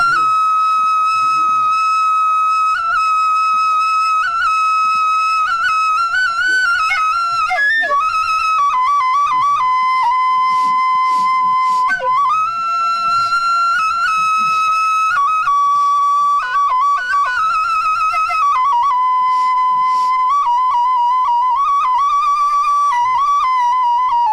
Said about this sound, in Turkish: bu da düdük. Düdük denilen şey.